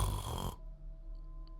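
A voice imitates a man out cold on the ground, snoring in his sleep: a loud rasping burst cuts off sharply, followed by a quieter low drone.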